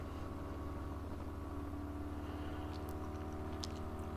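A motorcycle engine drones steadily on a ride through New Zealand, a low, even rumble and faint whine, continuous throughout with a few small clicks near the end.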